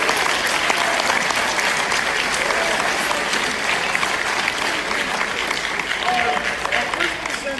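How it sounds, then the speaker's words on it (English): Loud, sustained applause from a crowd at a high school awards ceremony, dense clapping that holds steady throughout without fading. "give our teachers a round of applause real quick for all the hard work they do"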